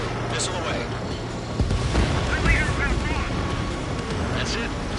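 An enemy bomber explodes after a missile hit in the video game Ace Combat 7: Skies Unknown, a rumbling boom swelling mid-clip over steady jet engine roar, with radio chatter layered on top.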